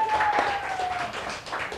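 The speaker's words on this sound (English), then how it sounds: "Let's give them a round of applause." A studio audience at a live game show applauds the grand prize winners, a steady wash of clapping over about two seconds with a tone sounding faintly behind it.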